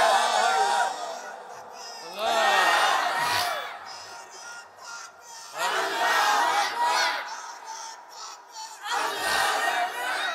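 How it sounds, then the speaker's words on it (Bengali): A large crowd at a religious political gathering roars the takbir in unison, with three or four long swelling collective shouts that rise and fade, loud and reverberant, separated by brief lulls. "2 হাত তুলে তাকবীর দিয়ে দেখানো লাগবে"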